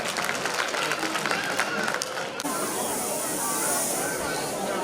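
Dense, steady audience applause fills the hall at a pre-primary school annual function, a continuous wash of clapping that carries on without a break.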